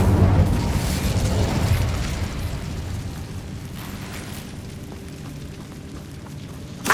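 A burst of fiery explosion from an Incendio spell in Hogwarts Legacy roars loud at first, then fades into a lingering rumbling crackle with a small pop at the very end.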